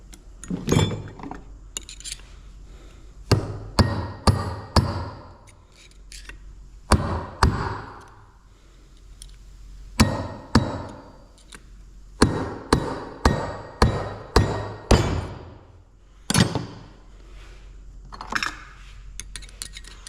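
Repeated metal-on-metal hammer blows driving two dowels out of a tractor transmission case during a grinding-gear repair, loud close strikes in irregular bursts of two to five with short pauses between.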